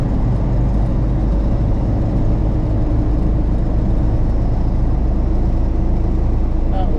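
A 1974 Ford truck in four-wheel drive runs with a steady, loud low engine rumble and road noise, a constant drone with no clear revving changes.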